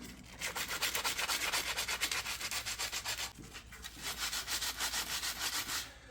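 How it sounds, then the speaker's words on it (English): Sandpaper rubbing steadily back and forth along a wooden hiking stick, a close, rhythmic scratchy rasp of even strokes with a brief pause midway. "Now I'm going to sand it all the way to the end."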